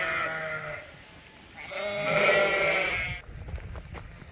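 Ewes bleat loudly and close by on a farm during sorting, with several drawn-out calls overlapping over about three seconds before a quieter tail.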